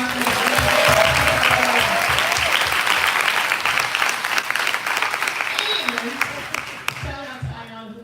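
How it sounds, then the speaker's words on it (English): Crowd applause at an outdoor morning rally for joy and justice, loud sustained clapping with cheers and voices mixed in, fading out near the end as a speaker's voice returns. "clap that up"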